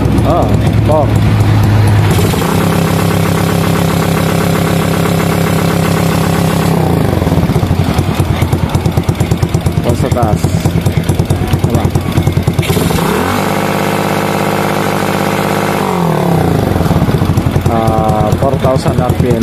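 A Suzuki Smash motorcycle fitted with an adjustable 4-pin CDI revs high near the mic, its loud buzzing engine climbing and holding in long sustained bursts with dips to idle between, while people talk over it.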